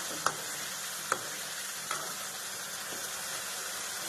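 Rajma curry masala sizzles steadily in a pan while a spoon stirs it, knocking the pan a few times against the constant hiss of frying.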